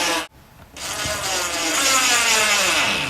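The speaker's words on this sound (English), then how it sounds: "We're going to use our 1/2-inch flathead screws just to secure our L brackets into place." A power driver sinking half-inch flathead screws to fix L brackets inside a lazy susan cabinet, a short whir, a brief pause, then a long steady grinding drive into the wood.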